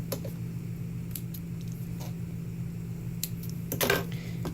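Scissors snipping fabric thread after stitching, a few faint sparse clicks and then a short cluster of crisp cuts near the end, over a steady low hum and with no talk.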